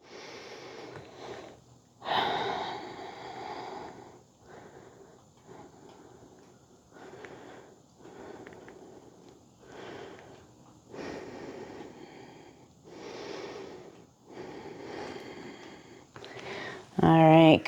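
Deep, slow breaths taken during a mobility stretch, repeating in steady inhale-exhale cycles close by, with a sharper, louder burst right at the end.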